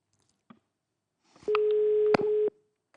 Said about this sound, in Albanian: Zilja po bie dhe regjia të më ndihmoj.